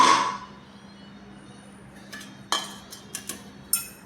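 Dishes and utensils clink while fish curry with pointed gourd and potato is served, a few sharp metallic taps and knocks spaced apart in a quiet kitchen after a brief opening rustle.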